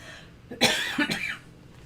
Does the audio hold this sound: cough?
yes